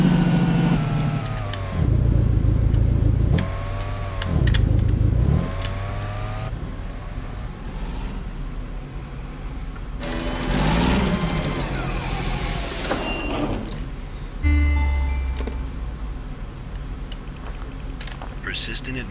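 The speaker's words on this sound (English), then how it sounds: "Telling you, this this truck's a wild ride." A truck engine rumbles and surges with varying loudness while driving in the video game SCP: Secret Files, with a voice talking over it.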